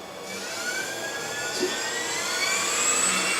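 A small high-torque electric motor rated for 85 pounds of torque is cranked up toward 6200 RPM, giving a steady, loud high-pitched whine that rises gradually without pause.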